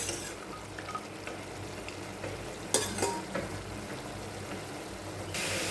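Mustard greens curry with lentil dumplings fries in a pan as the water cooks off. A soft, fairly faint sizzle runs under occasional spoon scrapes and stirring knocks, with no speech.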